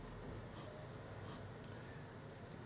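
A Sailor Naginata Togi fountain pen nib writes on paper, giving soft scratchy strokes in a few brief bursts over steady low background noise, fairly close and quiet.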